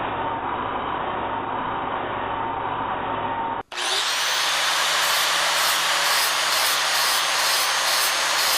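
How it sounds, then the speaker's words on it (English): A power grinder whines loudly and steadily as it strips paint from a steering bracket down to bare metal on a first-generation Toyota 4Runner, the tone jumping sharply higher partway through and staying close and continuous. "we need to grind down all the paint and bring it down to bare metal so then we can weld it in place"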